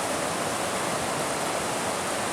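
Fudo no Taki, a small waterfall in Hinohara, Japan, spills into a river, giving a steady, dense roar of rushing water close by that continues unbroken throughout.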